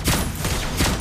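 Lesley's gun in Mobile Legends fires a rapid, loud volley of shots at close range, with a second burst just before the end over a dense game-effects backdrop.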